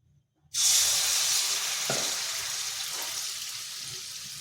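A ladle of wheat flour batter hits hot oil in a wok, setting off a sudden loud hissing sizzle that holds steady and slowly fades over a few seconds.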